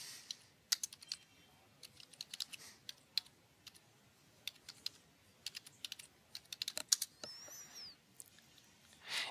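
Someone types a web address on a computer keyboard, producing quiet, close, irregular key clicks in quick clusters with brief gaps between them.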